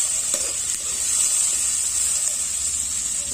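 Red potatoes fry in a pan with a steady, close, continuous sizzle and occasional soft stirring, no talking.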